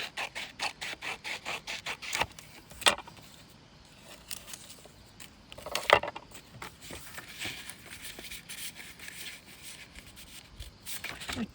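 Paper is trimmed by hand for a small vintage-style folio. A quick run of crisp, rhythmic cuts comes first, then a few louder isolated snaps, all close and fairly quiet.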